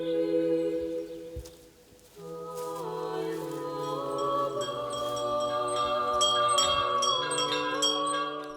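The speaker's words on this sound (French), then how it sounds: "Le son des cloches vient rompre le silence qui règne entre les fidèles et les touristes" Bells ring at a hilltop Orthodox church, with sustained tonal strikes layering and overlapping into a rich, ongoing peal that dips briefly before resuming at full strength.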